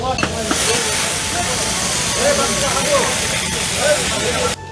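Padma hilsa fish fry in hot oil at a riverside eatery at Mawa Ghat, a steady, dense, loud hiss and crackle throughout with faint voices murmuring underneath, cutting off abruptly at the end.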